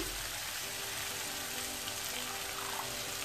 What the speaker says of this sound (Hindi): उस मसाले को थोड़ा सा पानी डाल देंगे हम ताकि जले नहीं।